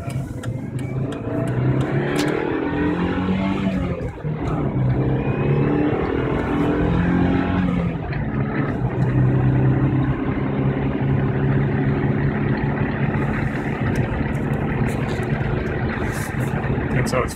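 Fully warmed-up engine of an unmodified 2001 Subaru Impreza RS 2.5 idling and revving, a steady loud hum with a few throttle swells, and someone talking over it throughout.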